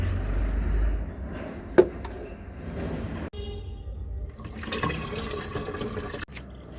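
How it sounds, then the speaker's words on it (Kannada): Water-diluted fertilizer made from tea powder and onion peel poured onto succulent plants: a steady liquid pour and trickle, fairly close, with a brief knock and a louder splashing stretch toward the end. "ಈ ಫರ್ಟಿಲೈಸರ್ಗೆ ಸ್ವಲ್ಪ ನೀರನ್ನ ಜಾಸ್ತಿ ಮಾಡಿ ನಾನು ಸಕ್ಯುಲೆಂಟ್ಸ್ ಗಿಡಗಳಿಗೆ ಕೊಡ್ತಾಯಿದ್ದೀನಿ"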